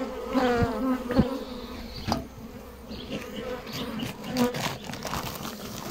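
Honey bees buzz steadily around an open beehive during an outdoor hive inspection, the drone close and continuous with several louder passes as individual bees fly near, plus light rustling and handling noises.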